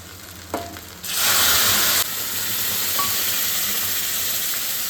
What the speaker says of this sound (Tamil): கொதிச்சு பச்சை வாசனை போயிடுச்சு. இப்போ வந்து நம்ம இதில் ஊற்றிக்கலாம்.